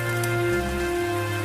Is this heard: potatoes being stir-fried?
no